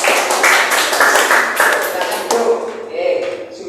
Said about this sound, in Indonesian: beri tepuk tangan yang meriah coba